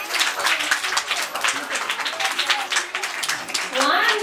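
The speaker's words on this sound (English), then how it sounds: "Okay, claps all of you." Children in a classroom at a fruits day celebration clap together in a dense, continuous patter, with voices talking over the applause.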